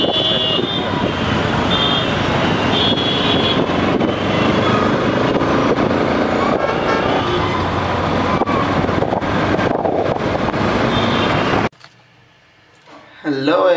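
Steady road traffic noise surrounds a vehicle stuck in a jam, a dense rumble of cars and buses with wind buffeting the microphone. It cuts off abruptly near the end into quiet, and a voice is heard briefly.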